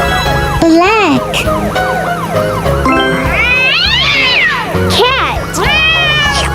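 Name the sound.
cat meowing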